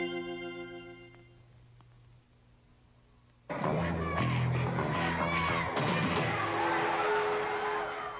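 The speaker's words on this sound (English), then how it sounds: "Everyone is excited by the roar of the crowd." Soft sustained musical tones fade into near silence, then a loud, dense roar of a cheering crowd bursts in and continues steadily to the end.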